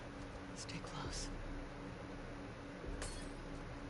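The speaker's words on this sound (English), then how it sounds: "Oops, I'm breaking glass." Glass breaking in the video game The Last of Us Part II: a few short, bright clinks and cracks, the clearest near the start and one near the end, over a steady low ambient hum.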